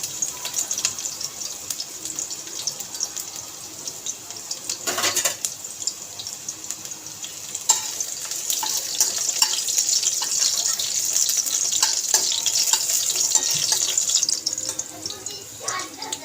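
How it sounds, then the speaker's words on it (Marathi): Garlic sizzles in hot oil in a pan for a traditional Malvani alu fatfate, a steady close hiss with crackling that grows a little louder midway, while someone talks over it. "तेल गरम झालं की त्याच्यामध्ये लसूण टाकून द्यायचं"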